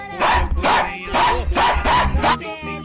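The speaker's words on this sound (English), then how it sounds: "He keeps barking." A dog barks loudly and close by, five sharp barks in quick rhythmic succession, with no talking.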